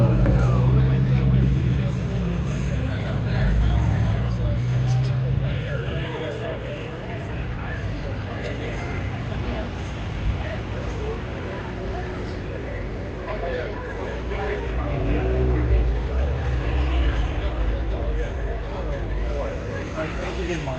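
An MGB's engine hums steadily while it is driven, with road and wind rumble, and someone talks over it throughout.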